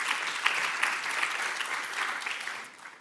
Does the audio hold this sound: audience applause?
yes